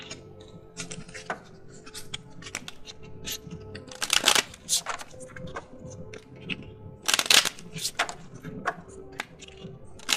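Deck of oracle cards shuffled and cut by hand: crisp riffling flutters and soft slaps repeat through the stretch, with two louder bursts of rapid card ruffling standing out close to the ear, and no talk.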